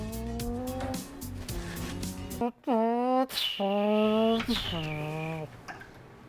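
A voice imitates a car driving, with humming engine drones that rise and fall in pitch, including a revving swoop and sliding tones, close and fairly loud, in several bursts.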